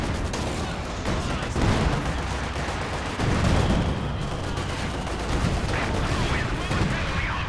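Dense battle din from Company of Heroes 2 as shots ping and bounce off a Soviet KV-2 heavy tank, steady loud volleys of gunfire and impacts with no clear breaks, with speech mixed faintly underneath.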